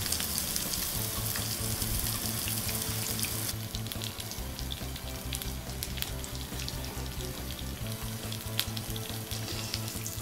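Korean pork skirt meat (galmaegisal) with garlic sizzling on a home tabletop grill, a steady, loud frying hiss continuing throughout with a few sharper crackles and pops.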